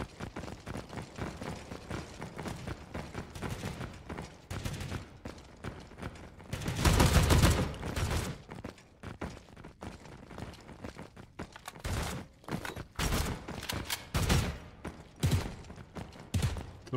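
Gunfire bursts in the slow-paced free-to-play shooter War Gun, with a loud, dense volley around the middle and further sharp shots near the end over a continuous noisy game background.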